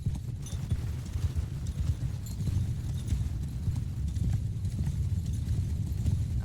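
Steady, rapid hoofbeats of a galloping horse in Mount & Blade II: Bannerlord, continuous and fairly loud throughout with a low rumbling undertone.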